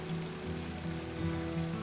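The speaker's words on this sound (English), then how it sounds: "The sound of the rain brings me back into the safety of my room" Steady rain patters on a surface, a soft, even wash of drops continuing without a break beneath a faint low tonal hum.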